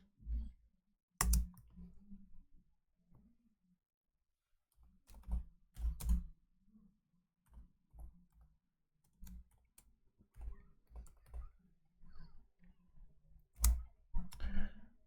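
Scattered mouse clicks and short bursts of keyboard typing while working in a code editor, sharp close taps separated by quiet gaps, with no talking.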